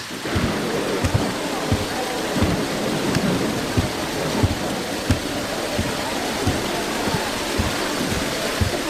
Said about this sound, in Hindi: तुम तो बारिश को देखो